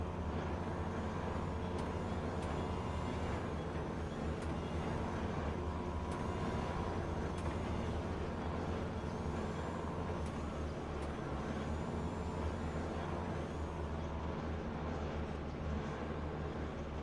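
Heavy trucks and air brakes rumble through a busy container port in GTA V, a dense, steady mechanical drone with faint hissing on top and no clear gaps across the stretch.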